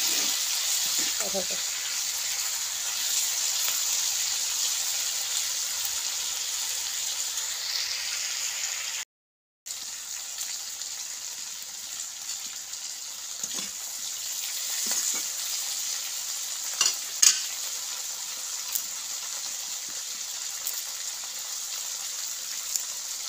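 Food fries in a pan while being stirred, giving a steady hissing sizzle with occasional scraping clicks. There is a brief dropout partway through, and the sound stays close and fairly even.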